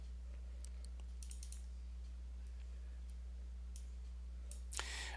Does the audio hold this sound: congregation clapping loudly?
no